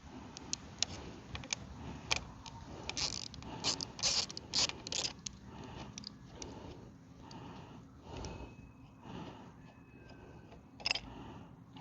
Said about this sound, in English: take your socket and thread the bolt out from the top.